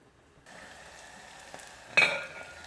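Tomatoes and onions simmering over medium-low heat for a Ugandan G-nut sauce, a soft steady sizzle with a brief louder stir or clink of a utensil in the pan near the end.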